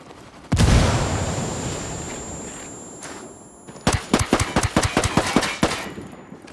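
Gunfire in Ghost Recon Wildlands: one heavy blast opens, then a rolling rumble, then a rapid run of sharp, loud automatic shots in close succession.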